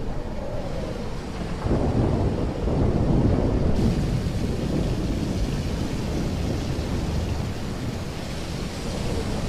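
Thunderstorm in the Life is Strange video game: a loud rolling thunder rumble swells over steady rain and wind, then sustained storm noise continues.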